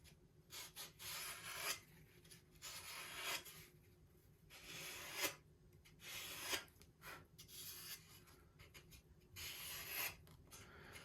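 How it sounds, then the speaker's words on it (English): Sandpaper is rubbed lightly along sharp wooden edges on a Top Flite .60-size P-40 model airplane, making soft, quiet rasping strokes in a steady back-and-forth rhythm. "Now on all these sharp edges, I'm just going to take this sandpaper and just lightly take that fuzzy edge off."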